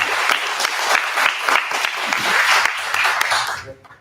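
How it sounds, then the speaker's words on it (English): A conference audience applauds its speakers with dense, steady clapping that holds at an even level for several seconds before quickly cutting off. "Lastly, a big round of applause to all our speakers."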